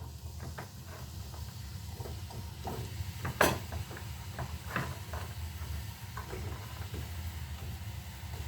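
Zucchini (courgette) for a prawn and egg noodle soup sizzles in a pan, a steady low hiss with scattered crackles and pops, one sharper burst, no talk.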